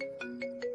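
A phone rings unanswered, a short electronic ringtone of repeated bright melodic pulses, clear and close with no voices.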